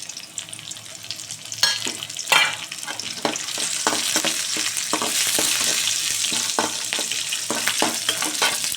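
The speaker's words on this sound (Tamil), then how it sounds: "லைட்டாக செவந்ததும் இந்த காஞ்ச மிளகாயும் பச்சை மிளகாயும் இதில் போட்டுடணும்" Dried red chillies and green chillies fry in hot oil with a bright, crackling sizzle, punctuated by repeated scraping stirs of a spoon in the pan, close and busy, with no talk.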